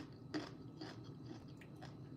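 Crunchy green beans bitten and chewed up close, a few distinct crisp crunches spaced through a short stretch of quiet mastication, with no talking.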